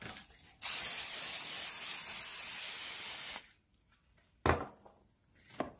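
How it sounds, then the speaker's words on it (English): Cooking spray hissing onto a baking pan for peanut butter cookies: one close, steady spray lasting about three seconds, then a quick short burst and a fainter brief puff. "we're going to spray the pan."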